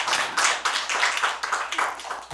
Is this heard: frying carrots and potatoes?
no